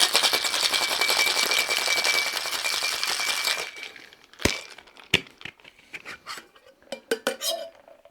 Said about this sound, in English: Now we're going to add ice and give this a good shake.